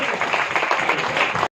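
A congregation at a church prayer meeting claps in a brief burst of applause, close and dense, cutting off abruptly.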